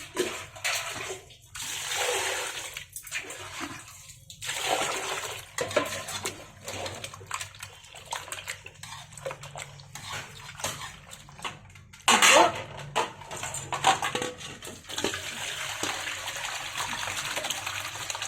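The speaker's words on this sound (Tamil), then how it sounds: "தண்ணி ஊற்றி வாஷ் பண்ணிக்கலாம்." Water pours and splashes in irregular gushes while goat intestines are washed, starting and stopping repeatedly, close by, with a brief louder splash near the end; no speech.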